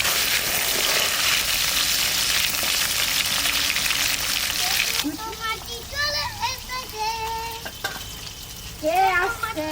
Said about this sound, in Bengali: সরষের তেল, মাছটা ভেজে নেবো।